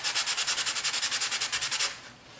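A Graphtech Tusq XL guitar nut is rubbed back and forth on sandpaper in quick, even swipes, about a dozen rhythmic rasping strokes close up that stop abruptly.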